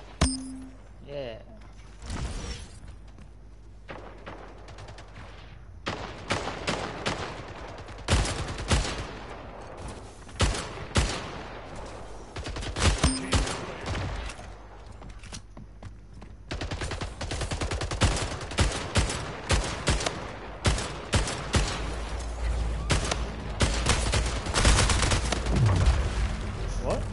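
Bursts of SMG fire crackle in a video game, coming in clusters of rapid shots that grow denser and louder toward the end, with occasional voices in between.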